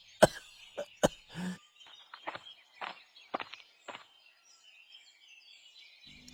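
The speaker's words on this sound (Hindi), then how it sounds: "ये खांसी।" A sick person coughs in sharp, separate bursts, a few loud coughs near the start followed by softer, scattered coughs and throat sounds in a quiet room.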